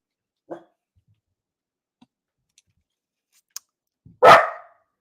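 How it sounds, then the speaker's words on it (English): A small dog gives a single short bark, then after a few quiet seconds and faint clicks lets out a louder, sharper bark nearby. "Sorry, my puppy's barking his ear off."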